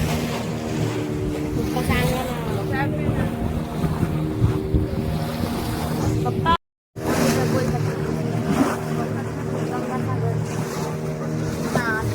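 A motorboat engine drones low and steady close by off Devbag beach among heavy waves, with strong wind buffeting the microphone and a brief cut in the middle.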